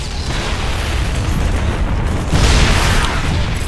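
Siege tank artillery pounds away in StarCraft II: dense, heavy booming rumble throughout, swelling louder near the end, with no talk.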